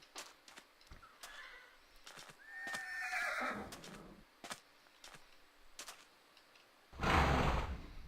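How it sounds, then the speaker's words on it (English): A video-game horse in Minecraft's Hexxit modpack whinnies with a shrill, quavering neigh amid scattered hoof clops and clicks, followed by a louder burst of noise near the end. "there's a lot of horses over here"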